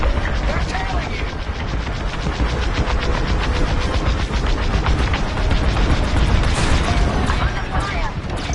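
Starfighter weapons fire in a Star Wars Squadrons space battle: dense, rapid repeating blaster bursts rattle continuously at close range over engine roar and layered combat noise, with voices speaking in the mix.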